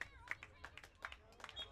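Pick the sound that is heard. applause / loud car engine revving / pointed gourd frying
applause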